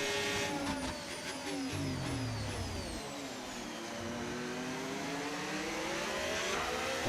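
A race car engine in a racing video game, revving and shifting through gears with rising and falling whines, close and sustained with no one talking.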